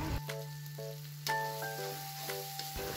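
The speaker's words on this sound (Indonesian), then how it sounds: "Ini aku tumis sampai bumbunya harum gitu ya." Spice paste sautéing in a little oil in a frying pan, a soft close sizzle with a few light clinks and stirring sounds, no talking.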